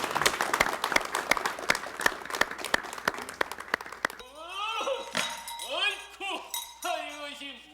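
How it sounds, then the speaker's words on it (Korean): A studio audience at a 1988 Korean TV show claps in scattered, distinct bursts for about four seconds before a performer of the Bongsan mask dance starts speaking in a loud, drawn-out voice. "여러분 박수로 청해 주시면 대단히 고맙습니다"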